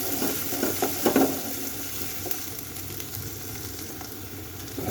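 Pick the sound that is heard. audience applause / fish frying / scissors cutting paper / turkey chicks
fish frying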